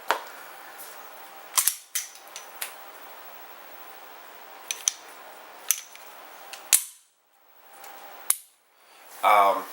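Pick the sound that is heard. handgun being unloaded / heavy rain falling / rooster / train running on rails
handgun being unloaded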